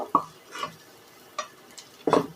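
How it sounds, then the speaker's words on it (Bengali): Turmeric and Kashmiri chili powder being stirred and fried in hot oil: a few separate spatula scrapes and taps against the pan, spaced irregularly over a low sizzle, close by. "হলুদ গুঁড়ো, দিয়ে আবারও একটু ভালো করে নেড়ে নেব। লঙ্কা গুঁড়ো, কাশ্মীরি লঙ্কা গুঁড়ো ভেজে নেব।"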